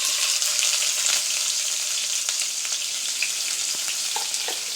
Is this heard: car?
no